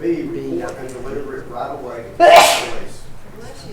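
A single sharp sneeze breaks out close by, cutting across a speaker who is reading a training quiz aloud.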